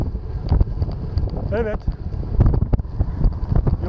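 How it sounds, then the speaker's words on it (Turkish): Strong headwind buffets the microphone with a steady low roar and gusts outdoors on a road trip around Bandırma, while someone speaks briefly over it. "sizi karşıdan gelen bir rüzgar karşılıyor."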